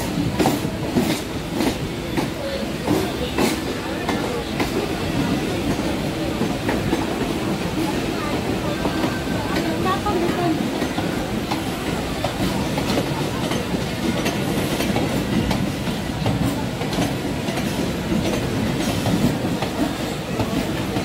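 A train pulls into Chhatrapati Shivaji Maharaj Terminus in Mumbai, with steady rumbling and rhythmic clickety-clack of wheels over rail joints filling the whole stretch, loud and close from onboard, with faint voices in the background.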